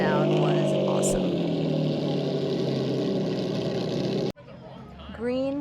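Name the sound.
classic V12 car engine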